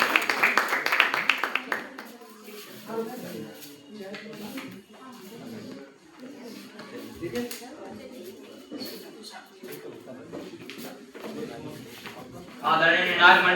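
An audience bursts into hearty applause for a speaker at a celebration for Atal ji's birthday, with loud clapping at the start and again at the end and a speaker talking in between.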